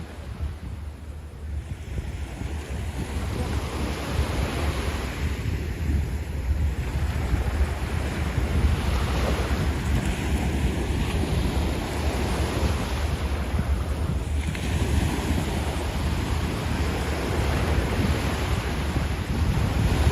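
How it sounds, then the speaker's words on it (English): Ocean surf at Coney Island beach in winter, a continuous roar of breaking waves with heavy wind buffeting the microphone, steady and loud with no voices. "you are here on the beach with me right now, here in Coney Island"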